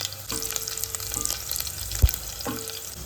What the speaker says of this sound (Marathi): आणि मग एक 10-12 पाकळ्या ठेचलेलं लसूण टाकायचं. लसूण खरपूस होईपर्यंत परतायचं आहे.